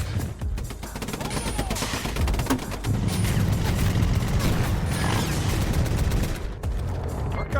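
Gunfire in an animated Fallout battle during a sandstorm: dense, continuous bursts of automatic fire with booms and mechanical clatter, loud throughout.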